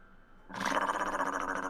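A voice imitates a dog's growl, a sudden rough rasping snarl that starts after a brief quiet and holds loud and close, without other talk.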